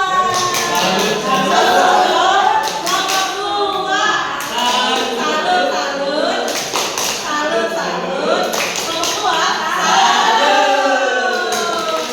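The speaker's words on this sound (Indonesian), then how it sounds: "Tepuk tangan untuk kelompok 2." A classroom group claps for a presenting team at a teachers' sharing forum, with bursts of hand claps rising and fading over about twelve seconds amid overlapping chatter and shuffling.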